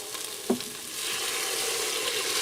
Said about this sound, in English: now that I let this go for just a minute, I'm going to add in 3 cups of red wine